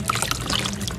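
Water is poured over a dog's head during a bath, a short close splashing pour that runs steadily for about a second.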